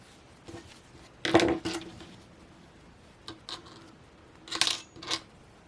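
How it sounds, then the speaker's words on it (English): Scissors snip crochet yarn after the edging of a crochet towel topper is finished, giving a few soft, close cuts in small clusters separated by quiet pauses. "I'm going to go ahead and snip the yarn"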